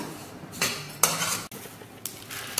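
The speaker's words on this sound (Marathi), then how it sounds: "सतत हलवत राहायचे, तीळ ही बारीक असतात ना, करपू शकतात म्हणून।" Sesame seeds and coconut dry-roasting in a pan are stirred with a spoon in four quick scraping strokes, each a bright metallic rasp against the pan.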